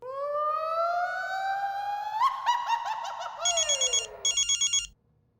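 A telephone rings: a long rising electronic tone, then rapid pulsing bursts of ringing, loud and close, ending abruptly.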